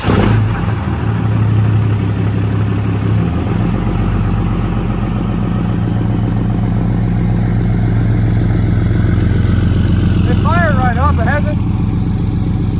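A stalled pickup truck that hasn't run in days cranks over and starts, then runs with a loud, close, rough engine drone that shifts in pitch as it revs, with a brief squealing chirp near the end.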